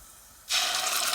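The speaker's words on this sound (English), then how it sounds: "Now that the oil is hot, I'm gonna add in some methi seeds, some mustard seeds" Methi and mustard seeds hit hot oil in a pan, a quiet hum abruptly giving way to a loud, dense, continuous hiss of sizzling that holds steady to the end.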